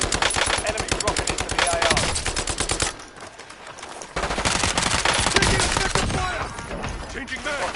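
Rapid automatic gunfire in Call of Duty Warzone, loud dense bursts of shots with a short quieter gap midway before the firing resumes just as heavily, close up with the game's sound effects around it.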